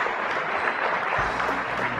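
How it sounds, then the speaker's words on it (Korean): Steady applause from an audience at the ICT INNO FESTA 2020 startup pitching awards, welcoming a presenter to the stage; dense, even clapping fills the whole stretch with a faint background hum. "여러분 다시 한번 따뜻한 박수로 맞아주시기 바랍니다."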